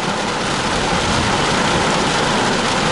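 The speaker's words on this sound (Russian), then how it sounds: "Опять валит ливень, я даже выходить отсюда просто не хочу." Heavy rain pours down steadily around a parked truck in the USA, a dense, even broadband wash that stays loud for the full stretch with no talking.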